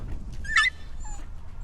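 A dog gives a single short, high-pitched yelp over a low background rumble during a guided dog introduction training session.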